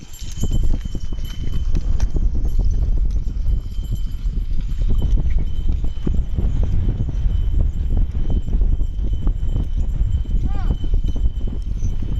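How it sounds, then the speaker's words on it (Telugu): Working bullocks walk along with a steady, continuous clatter of hooves on the ground, loud and close, while a person talks over the sound throughout. "చూసారు కదా ఎద్దులు అయితే ఎలా పోతున్నావో"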